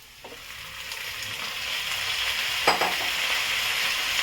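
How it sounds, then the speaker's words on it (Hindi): Chicken sizzles in a pan with browned onions for biryani, a steady hiss of frying that grows slightly louder, broken by a couple of stirring scrapes and clinks, with no talking. "इसमें चिकन मैं डाल रही हूँ।"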